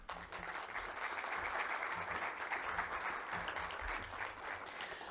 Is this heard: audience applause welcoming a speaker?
yes